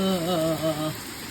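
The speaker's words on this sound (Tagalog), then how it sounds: "Ang lakas ng ulan." Heavy morning rain pours down during flooding, a steady broadband hiss of water that runs through the whole stretch, with a brief tonal voice-like sound at the start.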